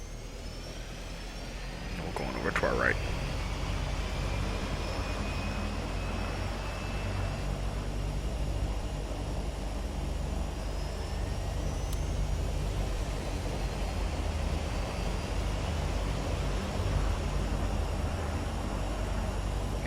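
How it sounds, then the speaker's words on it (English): Twin aircraft engines spooling up in the flight simulator game FSX Steam Edition, a steady broadband engine roar with a rising whine, plus a brief click near the start, continuous and fairly loud. "We'll start with our left engine."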